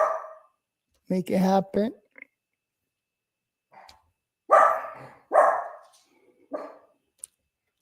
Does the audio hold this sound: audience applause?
no